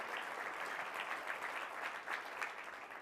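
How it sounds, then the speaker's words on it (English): Conference audience at the Q2B24 event in Silicon Valley clapping steadily, a faint, even patter of applause with no talk over it. "just give a round of applause to all those groups"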